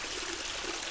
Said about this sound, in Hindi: ये पानी नहीं रुकने वाला। निश्चित है कि नौका अब डूब जाएगी।